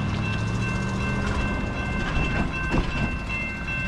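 An eastbound Norfolk Southern freight train led by EMD SD70ACe and Dash 9 locomotives rumbles past at about 49 mph, a steady loud roar with rhythmic clacking of the wheels and a faint high tone above.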